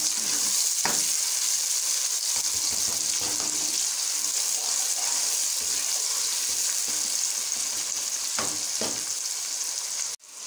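Tomatoes frying and being stirred in a pan over low heat, a loud continuous sizzle close by with occasional scraping strokes of the spoon, cut off abruptly at the end.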